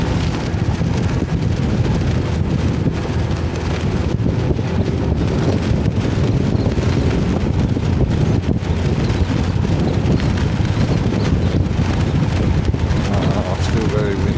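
Strong, steady wind buffeting a microphone on a moving vehicle on a road in Pattaya, a loud continuous rumble and roar that fills the whole stretch with no let-up.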